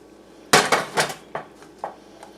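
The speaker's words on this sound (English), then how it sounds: "I'm going to finish stirring this in just until the butter melts and everything is combined" A spoon stirs rich dark chocolate pudding in a pot as butter melts in, giving a burst of close metallic scraping and knocking followed by a few lighter taps.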